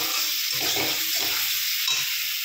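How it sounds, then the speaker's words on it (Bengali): Spice masala for an Indian egg curry, sweetened with a little sugar, sizzles and fries in a pan while being stirred, giving a steady, close hiss throughout with no talking. "ভালো করে মশলাটাকে কষিয়ে নেবো"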